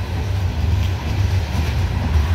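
A heavy CSX coal train with several locomotives labors up a grade on the old B&O mainline at Parrs Ridge, giving a steady, deep diesel rumble with faint rail clatter and no voices.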